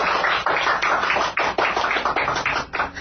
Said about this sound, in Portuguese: aplaudiram calorosamente